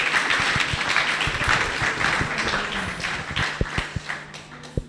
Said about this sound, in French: je vais dire d'applaudir M. Seck SVT très, très, très, très, très fort